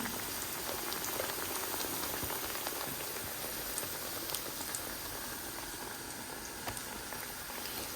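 Thin-sliced brinjal and cauliflower pakoras frying in hot oil, a dense, steady bubbling sizzle that holds at an even level throughout with no voices.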